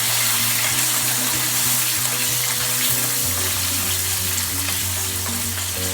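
Two tomatoes fry in oil in a pan for a sorrel-leaf (chukkakura) chutney, giving a loud, continuous sizzle with a steady low hum underneath and no talking.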